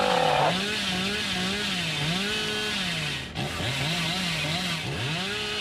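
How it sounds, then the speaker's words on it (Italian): The Hillbilly killer's chainsaw in Dead by Daylight roars loudly and continuously, its engine pitch swooping up and down in waves as it revs through a sprint, with a brief dip midway. "E poi una volta che avete scattato con la motosega, basta, o andate a vuoto o li colpite."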